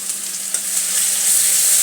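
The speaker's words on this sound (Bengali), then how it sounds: "রসুনটা ভেজে নিয়ে আমি ফেরত আসছি" Garlic frying in hot oil for Bengali chicken kosha, a steady, close sizzle that holds evenly throughout with a faint stir or clink partway through.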